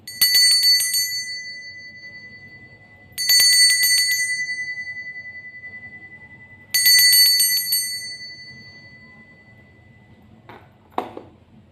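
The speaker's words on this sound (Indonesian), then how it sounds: "Kita akan mulai saja dengan ditandai lonceng berbunyi" A bright bell rings three times at spaced intervals, each ring fading out slowly, followed by a couple of faint clinks at the end.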